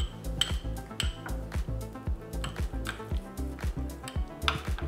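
Honey remedy stirred in a glass jar, a quick regular series of spoon clinks and taps against the glass, close and distinct, with no talking.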